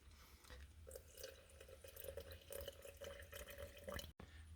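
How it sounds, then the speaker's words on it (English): Water is poured into a sourdough starter jar, a faint, steady trickle that runs for several seconds with a brief break near the end and no talking. "I added 100 grams of water."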